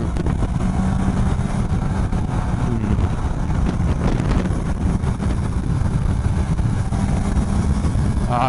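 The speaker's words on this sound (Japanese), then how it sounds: "回転数がどうだろう、6000回転ぐらいの音がすごい気持ちいいです" A Suzuki GSX-S750 motorcycle running in third gear at about 6000 rpm, a continuous steady engine drone mixed with heavy wind rush, loud and close throughout.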